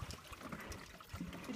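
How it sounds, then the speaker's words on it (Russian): A steady, gentle trickle of water runs at a frozen holy spring in Zamytye village in the Tver region, close and continuous with faint knocks mixed in. "Вода течет."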